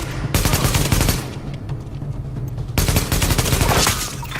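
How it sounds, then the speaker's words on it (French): Gunfire in the shooter video game The Division, with two long bursts of dense rapid shots separated by a short stretch of quieter scattered fire, loud and continuous. "L'escorte essuie des tirs en provenance du toit."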